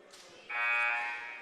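A basketball game buzzer sounds at a school tournament semifinal, a sharp, loud electronic tone that cuts in suddenly and holds for about a second over a quiet gym background.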